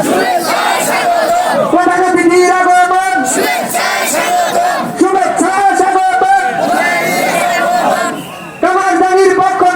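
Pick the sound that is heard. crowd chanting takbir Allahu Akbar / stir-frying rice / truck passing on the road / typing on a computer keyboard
crowd chanting takbir Allahu Akbar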